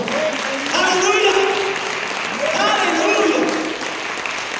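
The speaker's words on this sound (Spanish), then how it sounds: "Dale un fuerte aplauso al Señor" A church congregation claps together in strong, sustained applause, with raised voices mixed into the clapping across two bursts.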